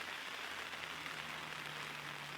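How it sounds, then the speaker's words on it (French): Light rain falling outdoors near a lake, a faint, even hiss of drops that holds steady throughout with no voices. "Et pourtant, il ne pleut pas beaucoup."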